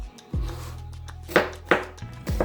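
A knife slices red peppers thinly on a cutting board for a spicy Korean summer dish, with several distinct, close chopping thuds landing at an irregular pace, quiet and without talk.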